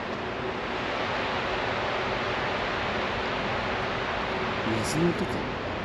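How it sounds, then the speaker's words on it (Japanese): Constant rushing water echoing inside the Nishino water tunnel in Shiga, a steady even hiss with a faint brief sound near the end. "水の音か。"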